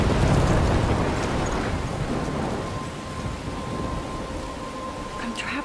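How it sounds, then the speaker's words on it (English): A storm from the video game Life Is Strange, near a lighthouse: heavy rain hisses continuously under rolling thunder, loud at first and easing slightly, with a brief faint tone near the end. "I'm trapped in a storm?"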